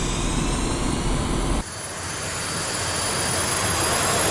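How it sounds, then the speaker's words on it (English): Su-25 jet engines in a flight simulator game, a steady broadband roar that drops abruptly partway through, then builds gradually as the engines are throttled up while the aircraft sits with its wheel brakes locked. "This dial shows how many RPMs we got going on in the engines, and I'm cranking her up."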